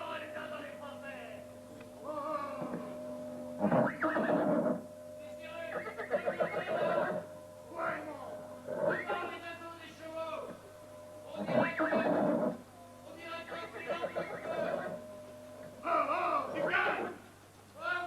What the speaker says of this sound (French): Il y avait comme des flammes devant le nez des chevaux. C'est pour ça qu'ils sont emballés.